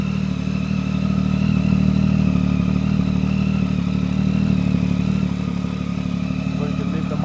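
A Triumph Tiger 800 motorcycle fitted with an Arrow exhaust idles close by, producing a loud, steady low engine rumble that barely changes over several seconds.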